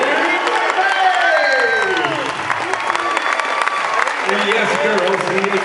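Concert crowd applauding and cheering for a guitarist on a tour at Fraze, a dense sustained wash of clapping with whoops and whistles, loud and continuous throughout.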